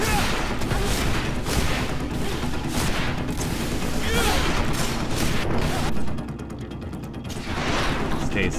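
Bandits fire guns in the video game Greedfall, a dense run of rapid gunfire bursts and crashing impacts that drops to a brief lull, then resumes, with game noise layered throughout.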